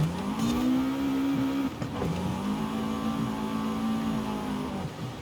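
A small car in Forza Horizon 5 slides through a corner on the handbrake, its engine holding a loud, steady rev that dips briefly mid-slide and climbs again, with faint tire scrub underneath throughout.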